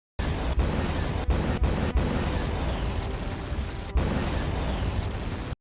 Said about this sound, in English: was there no other explosion sound available on the internet at the time of making this?